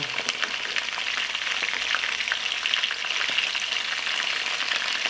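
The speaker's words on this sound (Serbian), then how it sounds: "I ćuftice sad ovako pržimo sa obe strane po 3-4 minuta." Steady crackling sizzle of meatballs frying in a pan, dense and continuous with small pops throughout, no voices.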